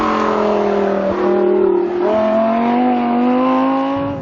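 A Lamborghini Gallardo supercar engine revs and pulls hard under acceleration on autumn roads in Italy, a loud, steady rising engine note with a brief dip as it shifts gear.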